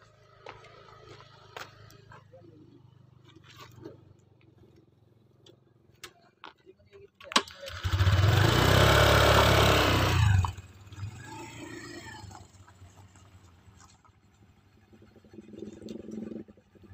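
Off-road motorbike engine revving hard for about three seconds as the bike is turned on a rough trail near Puncak Bogor, loud and close, then dropping back to a faint idle amid outdoor ambience.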